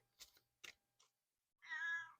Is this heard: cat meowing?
yes